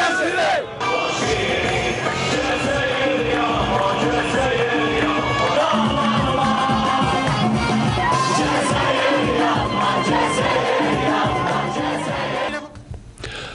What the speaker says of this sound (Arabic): دوت هتافات الأنصار الذين توافدوا إلى القاهرة لتشجيع المنتخب الوطني